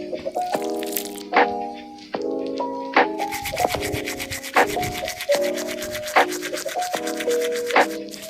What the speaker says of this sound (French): je vais me brosser les dents avec ceci